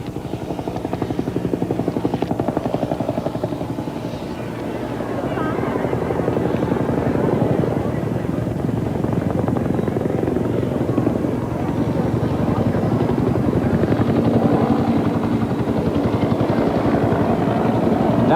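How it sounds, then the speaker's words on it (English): The Pope's helicopter flies in steadily, a loud continuous rotor drone and thrum that holds for the whole stretch, broadcast on 1988 television coverage near a mission. "I suppose it's the Pope's helicopter, coming in from another angle"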